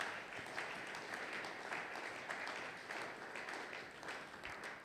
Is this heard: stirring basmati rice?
no